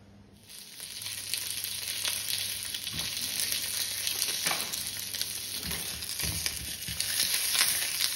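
Bacon rinds fry in a pan with a continuous, close sizzling hiss, punctuated by occasional soft stirring scrapes and crackles.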